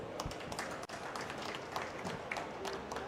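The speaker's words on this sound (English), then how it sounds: "Give a round of applause to all of us." An audience at a pavilion session at the COP30 climate conference in Belém, Brazil, applauding: dense, steady clapping from a crowd in a room, moderately loud and continuous for a few seconds.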